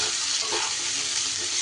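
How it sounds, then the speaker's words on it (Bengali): Pointed gourd frying in a pan, a steady close sizzle with the soft scrape of stirring running throughout. "এইবার পটলগুলো নাড়িয়ে চাড়িয়ে একটু ভেজে নিতে হবে।"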